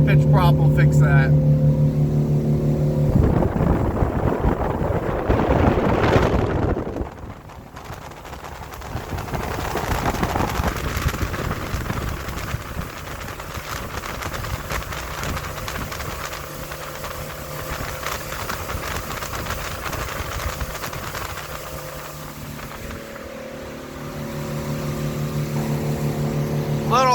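A 2006 25-foot Sea Ray Amberjack with a bracket-mounted Suzuki DF300 outboard runs steadily at around 4,500 RPM, a loud continuous engine drone with rushing water and wind noise throughout.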